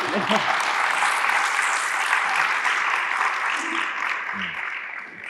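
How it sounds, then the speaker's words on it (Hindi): An audience applauds steadily and fairly loudly at a talk, a dense wash of clapping that tapers slightly near the end, with faint low voices underneath. "deserves a round of applause too"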